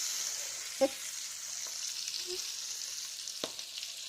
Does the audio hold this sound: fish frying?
yes